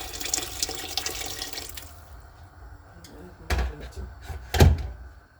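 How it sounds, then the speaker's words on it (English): Water poured from a tap into a pot for mutton soup, starting as a steady rushing stream that then stops, followed by a couple of heavy thunks and clatters. "we're going to add water now inside"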